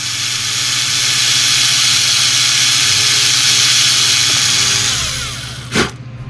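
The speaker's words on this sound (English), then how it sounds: "now we're going to go ahead and drill out all the windows around the perimeter" A small power drill whines loudly and steadily for about five seconds, drilling window holes in a 1:1400 scale plastic starship model kit, then winds down and stops with a brief clunk.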